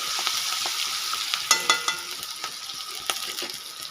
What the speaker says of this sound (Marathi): हिरवी मिरची वाटलेली होती थोडी टाकून घेतली मी त्यामध्ये परत ह्याला हलवून घ्यायचं असं